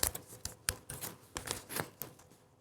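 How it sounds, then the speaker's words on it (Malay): Scissors snip paper in a quick irregular series of soft, close clicks during a visual arts lesson on cutting out shapes. "Saya gunting."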